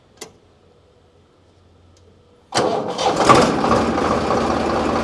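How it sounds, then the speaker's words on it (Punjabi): A 2003 Sawraj 855 tractor fitted with a Kirloskar engine starts up: after a brief click and near-silence, the diesel catches abruptly and settles into a loud, steady idle close by. "ਇਹਨੂੰ ਆਪਾਂ ਸਟਾਰਟ ਕਰਕੇ ਵੀ ਤੁਹਾਨੂੰ ਦਿਖਾ ਹੀ ਦਿੰਨੀ ਆ"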